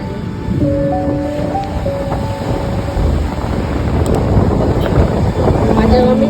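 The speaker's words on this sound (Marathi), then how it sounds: "समुद्र खवळला आहे अशा प्रकारे." Rough sea on the Vengurla coast in Konkan churns with a broad, steady wash of waves and wind, while faint voices murmur in the background.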